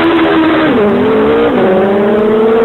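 A car fitted with a Suzuki Hayabusa motorcycle engine revs hard and steadily, its loud high-pitched engine note dipping briefly between gears before climbing again, with no voices.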